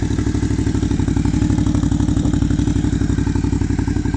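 A Suzuki V-Strom 650 twin fitted with a Black Widow exhaust, baffle installed, idling close by with a steady, rapid, even pulsing thump and a light mechanical clatter on top.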